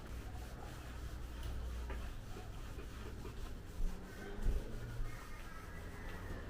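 A cloth rubs and wipes dirt off the wooden palings of an outdoor deck, a steady low scrubbing texture with a few louder swipes near the end, fairly quiet throughout.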